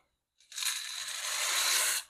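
Two cups of dry macaroni pour into a pot of boiling water, a bright rushing, rattling cascade that starts abruptly and runs for about a second and a half before cutting off.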